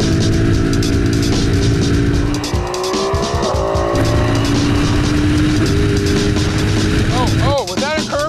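A Mercedes SLS AMG sports car accelerates hard through turns, its engine roaring loud and close from inside the cabin with rising revs, gear changes and tire squeal.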